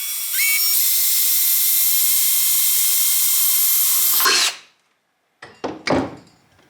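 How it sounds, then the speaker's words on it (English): A power drill bores holes in a metal bike water bottle cage, a loud sustained high whine for about four seconds that winds down, followed by a few short bursts of drilling. "Get to drilling."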